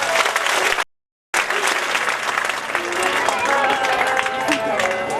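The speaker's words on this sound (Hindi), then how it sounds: "एक बार इस धर्म मंच से आपके लिए मैं ताली बजा रहा हूं।" Dense, loud applause from an audience at a Bhagwat katha religious gathering, clapping for the villagers, broken by a brief silent gap near the start and then continuing steadily.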